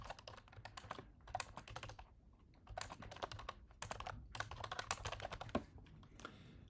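Fingers type on a computer keyboard in quick irregular bursts of crisp key clicks separated by short pauses, close and fairly quiet, with no talking.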